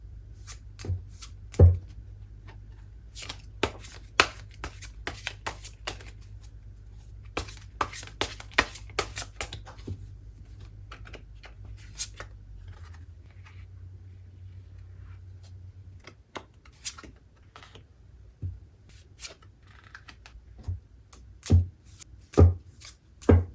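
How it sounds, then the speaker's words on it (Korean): Tarot cards being shuffled and handled at a reading table, giving soft papery riffles and scattered taps and flicks, close and fairly quiet, with a low steady hum beneath and no talking. "그럼 3번 분들 연애운 카드 조금 더 뽑아볼게요."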